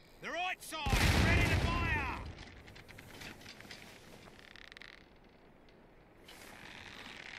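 A ship's broadside of cannons fires in the naval game Sea Dogs: a loud, rolling burst of several booms near the start, then fading creaks and distant reports as the volley dies away.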